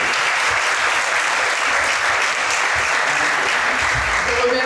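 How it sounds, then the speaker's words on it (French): An audience at a book presentation ceremony claps for peace, a dense, sustained round of applause from a full room, loud and even throughout. "Nous pouvons applaudir pour la paix."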